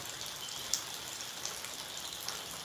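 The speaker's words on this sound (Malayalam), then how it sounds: "ഇവിടെയൊക്കെ നല്ല മഴയാണ്" Rain falling steadily on a Kerala day, a dense, even hiss with scattered louder drops ticking on a surface, continuous and moderately close with no talk.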